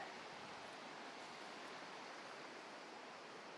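A mountain creek flows across a road crossing, a steady broadband rush of water that stays constant and close throughout, with no voices.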